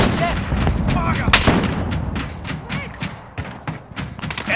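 Rapid bursts of gunfire and heavy thudding blasts from a Call of Duty Modern Warfare match crowd together in irregular clusters, loud and close, with game voices calling out between shots.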